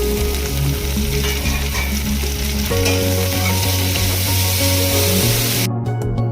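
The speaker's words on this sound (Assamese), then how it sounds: "এতিয়া মই পচলাখিনি 5 মিনিটমান ভালদৰে ভাজি ল'লোঁ" Banana stem and onions fry together in a pan with a loud, dense sizzle that barely changes, while a steady low hum runs underneath throughout.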